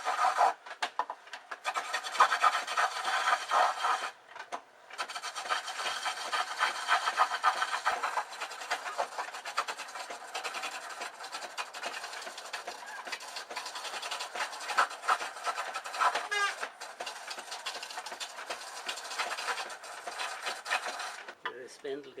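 Steady rough scraping of a roughing gouge cutting a spinning wood blank on a foot-powered treadle lathe, continuous and close, with brief pauses as the cut is lifted.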